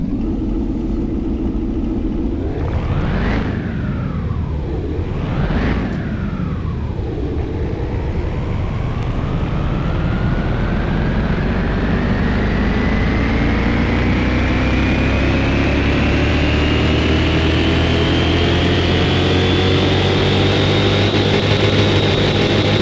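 A supercharged 725-horsepower car engine in Car Mechanic Simulator 2021 is blipped twice in sharp revs, then winds up in one long, loud climb to high rpm and holds there, close and alone without talk.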